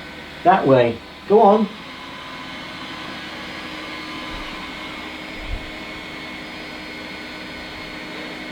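A Eufy E20 3-in-1 robotic vacuum cleaner hums steadily and evenly as it travels back to its dock, a low continuous whir lasting the whole stretch, with two brief spoken phrases near the start.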